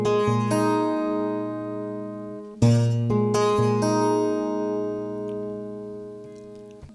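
Acoustic guitar fingerpicking a chord progression, ringing chords re-struck twice partway through and left to sustain and fade; close, clear and alone.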